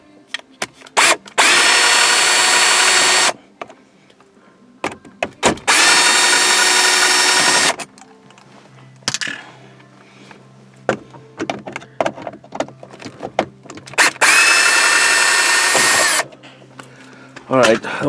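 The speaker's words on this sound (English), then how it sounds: "so we're going to remove the rest of the Torx screws." A power drill backs out Torx screws from the center console of a Jaguar X-Type, whirring loudly and close up in three sustained bursts, with clicks and a voice in the pauses between them.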